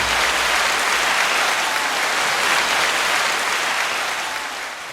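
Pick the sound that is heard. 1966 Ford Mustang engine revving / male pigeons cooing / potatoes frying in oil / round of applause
round of applause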